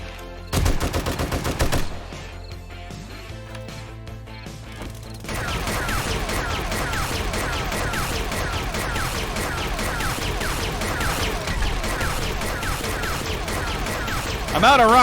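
A rocket launcher fires in the survival game 7 Days to Die: a loud opening blast, then a dense, sustained barrage of booming explosions and crashing debris.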